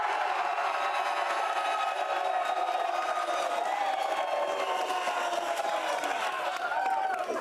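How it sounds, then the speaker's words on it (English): A large sports-show crowd at a live road show cheering: a continuous roar of voices and whoops from a distance, steady and unbroken, with some talk mixed in. "Chris McGregor says this crowd is going to top yesterday's crowd"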